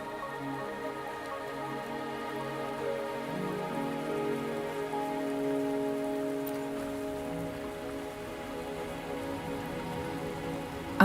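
Steady rain falls in the video game Wuthering Waves, a continuous close hiss of drops on surfaces with a low background tone, running evenly throughout with no voices.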